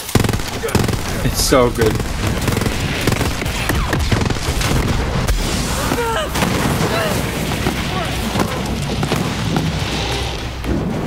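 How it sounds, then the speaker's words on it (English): Laser weapons in Borderlands 3 co-op combat fire in dense, rapid bursts mixed with booms and other battle noise. The volume stays loud and continuous, and a voice speaks briefly over it. "I'm using the double penetrating pneumatic laser exploder"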